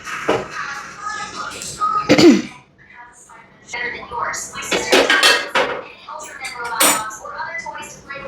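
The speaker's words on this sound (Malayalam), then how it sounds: "ഓരോ പാത്രത്തിലേക്ക് നമ്മൾ കുറേശ്ശെ നമ്മളിതിടുക" Dessert spooned into serving bowls, with close clinks and scrapes of a spoon against dishes in scattered bursts, mixed with a throat clearing and speech.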